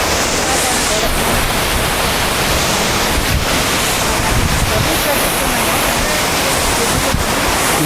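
A mountain waterfall of mineral-rich water, a dense continuous roar heard up close and steady throughout, with brief faint voices underneath.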